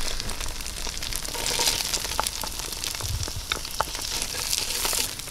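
Onions sautéing in butter and olive oil in a Dutch oven, a steady close sizzle and crackle throughout, with occasional sharper pops and faint stirring clicks.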